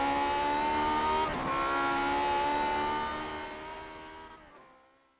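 A vintage Grand Prix Legends race car in the iRacing sim roars along the front stretch at Oran Park, its engine a loud, steady, high-pitched whine that climbs slightly before fading away.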